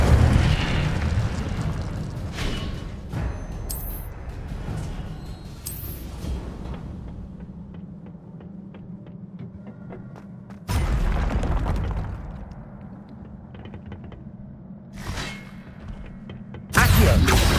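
Fire spell cast in Hogwarts Legacy, a burst of roaring flame erupting in several loud booming bursts with quieter crackling gaps between them, no talk.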